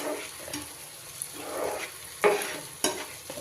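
Chicken stirred and fried in a pan, a steady low sizzle broken by louder scraping stirs at intervals, close and with no voices.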